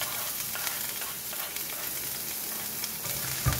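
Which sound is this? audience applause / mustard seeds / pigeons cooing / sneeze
mustard seeds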